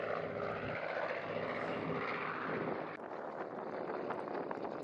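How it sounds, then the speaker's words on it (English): A P-51 Mustang, the Plum Crazy demo aircraft, flying at the Miramar Air Show: a continuous distant propeller and engine roar with wind buffeting, fairly faint and steady across the clip. "That is a P-51 Delta Plum Crazy Mustang demo."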